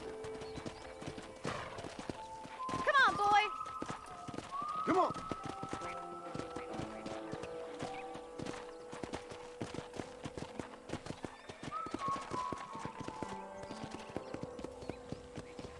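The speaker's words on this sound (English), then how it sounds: "let's see if you can still ride a horse." Horse hooves clip-clop steadily under a rider in the video game Red Dead Redemption, with a whinny near the start, spurring calls and a man urging the horse on, all moderately quiet.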